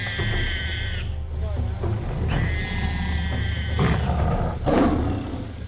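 A tiger fights a wild boar in the wild, with loud growling roars and snarls in bursts over a steady low rumble, punctuated by harsh squeals.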